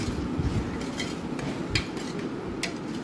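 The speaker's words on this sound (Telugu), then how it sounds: "వేసుకొని మొత్తం ముక్కలకు పట్టేలా ఒకసారి అలా కలుపుకోవాలి" A spoon scrapes and clanks in a pan while potato curry with tomato and onion is stirred, producing a series of metallic taps over a soft background rumble.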